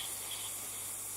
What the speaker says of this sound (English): Glad this paint still sprays though.